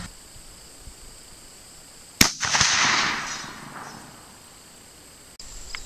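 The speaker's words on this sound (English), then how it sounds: "Gonna take a 100-yard shot with a 30-30 just to see where I am windage wise." A single sharp report from a .30-30 rifle fired at a 100-yard target on an outdoor range, one loud crack followed by a couple of seconds of fading echo, with no talking.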